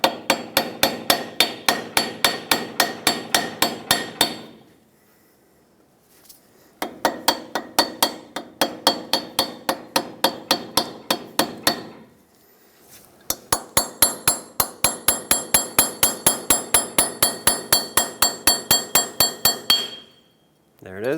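Repeated rapid metallic hammer strikes drive a chisel against a hub cap on a 1996–2002 Toyota 4Runner, ringing out in three long bursts of steady, sharp blows separated by brief pauses.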